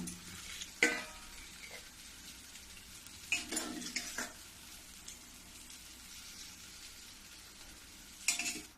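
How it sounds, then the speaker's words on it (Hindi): Mixed vegetables sizzle steadily in a hot pan on a gas stove while being fried for a Hindi home-cooking dal dish, with a few sharp spoon scrapes and clanks against the pan, near and alone. "देखो मैं 5 मिनट तक भून ली हूँ और ये खूब अच्छे से भून गई है।"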